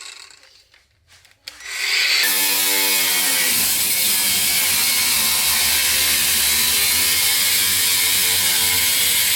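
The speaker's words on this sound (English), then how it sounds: "It's grinding time." An angle grinder cuts metal at the wheel arch of a widebody Ford Fiesta ST. After a few quiet seconds with faint handling noises, it spins up into a loud, harsh, continuous grinding whine that holds steady to the end.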